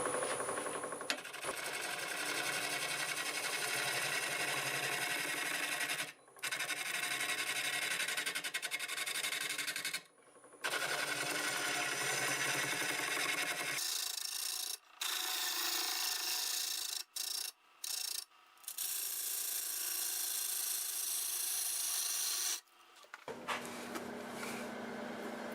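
A 5/8 bowl gouge hollowing a cracked maple burl spinning at about 700 RPM on a wood lathe: a loud, sustained scraping rasp of the cutting, broken by several short pauses where the cut stops, with no talking.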